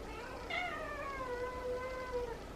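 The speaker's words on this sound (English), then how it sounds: "So many squeaky cats." Several feral cats give squeaky, drawn-out meows that rise and fall, overlapping one after another over a quiet background.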